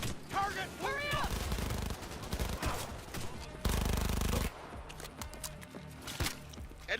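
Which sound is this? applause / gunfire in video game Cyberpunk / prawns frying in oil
gunfire in video game Cyberpunk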